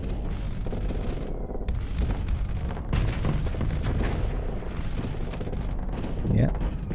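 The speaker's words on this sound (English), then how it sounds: "Firing gun is nice" Ship guns firing during a space battle in the Starsector video game with the Nexerelin mod, a steady rumbling barrage of shots and booms throughout, with someone talking over it.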